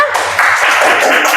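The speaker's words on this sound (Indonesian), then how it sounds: "Tepuk tangan untuk Nala." Pupils in an Arabic-language classroom give a short burst of applause for a student, a close, busy patter of clapping that lasts about a second and a half.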